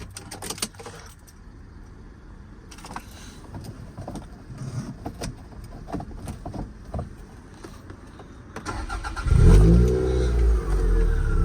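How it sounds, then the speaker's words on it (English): Keys jangle and click near the ignition of a 1996 Toyota MR2 GT T-Bar (SW20), then the small engine cranks and catches, settling into a loud, rumbling idle. "So we'll start her up and let you have a little listen to it as well."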